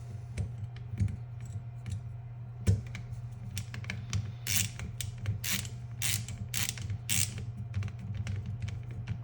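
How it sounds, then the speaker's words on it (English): Screws are driven back into an AFC-50 knife block during blade replacement, giving a steady run of close, crisp ratcheting clicks and creaks over a low background hum, with no talking. "Now we just need to put these screws back in."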